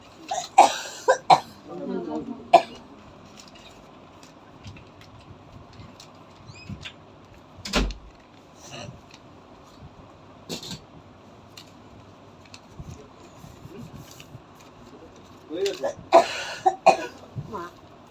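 A person coughs in a few sharp bursts near the start, once mid-way and again toward the end, amid casual indoor conversation at a Bengali Hindu wedding-settlement gathering.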